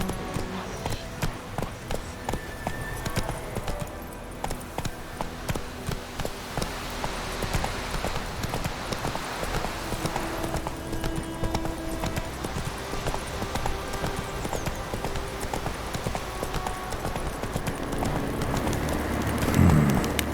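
Hooves of the horse Roach clip-clopping in a steady rhythmic gait through The Witcher 3, continuous and close, with ambient game background underneath.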